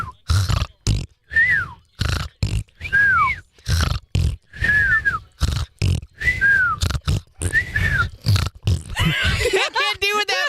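A person vocally imitates a snort followed by a raspberry and a whistle, repeating the sequence several times in short bursts with gaps between, ending in a faster flurry of whistly sounds.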